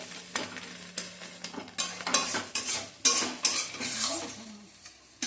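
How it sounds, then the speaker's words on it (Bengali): Stone-ground cabbage paste fries in oil, with a hissing sizzle under frequent, uneven scraping and stirring strokes of a spatula against the pan, heard up close and without speech. "বেটে তারপরে এই যে ভাজা হচ্ছে তেলে"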